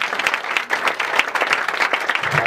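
A church congregation at a French revival crusade breaks into lively applause, a dense, continuous patter of many hands clapping nearby, with scattered voices mixed in.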